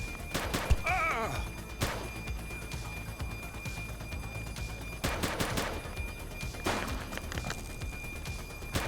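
Gunfire from a police shootout in the video game The Precinct, with scattered shots and bursts cracking over a busy game mix, several sharp reports clustered early and more around the middle and end.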